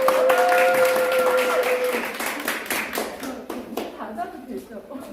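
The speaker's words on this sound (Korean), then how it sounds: "뜨겁게 박수해 주십시오." An audience claps for a social welfare professor before a lecture, a dense round of applause that thins out over a few seconds, with a sustained tone and voices mixed in early on.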